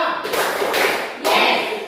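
A classroom group of students claps together in short rhythmic bursts during an ice-breaking activity, the sharp claps close and loud, with faint voices between them.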